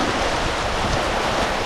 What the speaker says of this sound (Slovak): Tu sa tak voda dosť besní